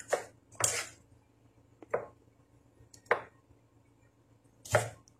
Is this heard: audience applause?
no